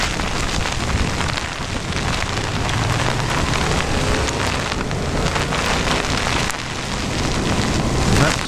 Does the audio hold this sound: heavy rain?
yes